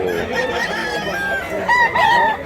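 A rooster crows at a Cebu chicken market, its drawn-out call rising over a busy, noisy background of market chatter and other fowl, fairly close and loud.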